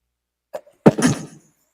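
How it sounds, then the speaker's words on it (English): A short intake of breath followed by a single forceful burst, an explosive sneeze-like sound, close and loud against silence, inside a bunker. "I'm going to sneeze."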